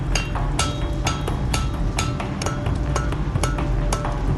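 Hammer blows strike a steel blade being forged, a replica Saxon seax, in a fast, steady rhythm, about two per second, each a sharp ringing clang over a low rumble of machinery.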